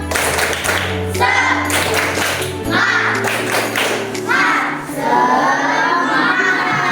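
Schoolchildren in a classroom perform a loud rhythmic clapping chant, shouting in unison between bursts of group claps.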